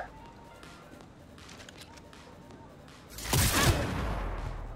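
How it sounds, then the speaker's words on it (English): Gunfire in the game Cyberpunk 2077, a faint rattle of shots at first, then a loud sustained burst of heavy firing in the second half, with voices speaking over it. "Cover fire!"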